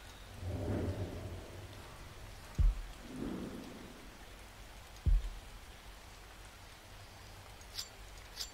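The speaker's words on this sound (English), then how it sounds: "Ah, the rain." Rain and thunder in The Walking Dead video game, Season 2 Episode 1: soft, steady rainfall with two sharp, close thunder cracks a few seconds apart, each followed by a low rumble, and no voices.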